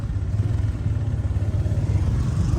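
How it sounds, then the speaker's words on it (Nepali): A scooter-type motorbike idles and rumbles with a low, steady engine throb while being brought into a parking spot near Jimbaran Bay in Bali, close and fairly loud. "पार्किङ मोटर बाइक ल्याएर यहीँ खिचिरहेको छ"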